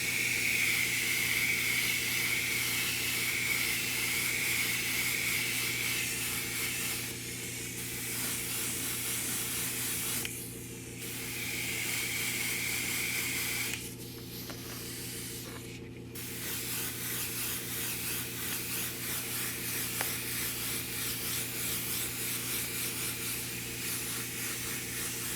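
Mist coats of paint spray onto a 1/4-scale custom model in steady hissing bursts, broken by short pauses between passes, close and loud over a constant low hum.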